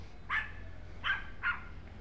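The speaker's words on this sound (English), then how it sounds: "there's this little doggy barking at me" A small dog barks three times at a distance over a low steady background hum, with short sharp yaps spaced unevenly, in a park setting in León, Nicaragua.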